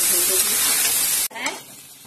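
Spices roasting in a hot pan until golden for dosa, a loud, continuous sizzle and hiss that cuts off abruptly, leaving fainter frying and stirring noises.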